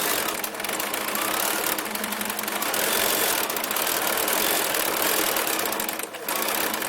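A sewing machine runs continuously at steady speed while free-motion quilting around a flower outline on fabric, a close, loud mechanical whir with rapid needle clatter.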